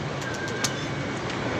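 Pigeons kept as pets by a pigeon fancier give a low, steady coo under a constant background hiss, with a few faint bright clicks or chirps scattered through.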